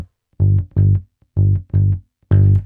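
Bass guitar plays a G blues ground line: five round, sustained low notes, grouped in twos with a final accented note, loud and dry, played alone with no talking.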